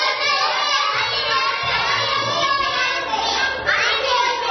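Noisy group of young children shouting and chattering together in a primary-school classroom during a Hindi lesson, a loud, continuous jumble of overlapping voices.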